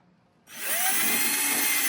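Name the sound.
electric drill running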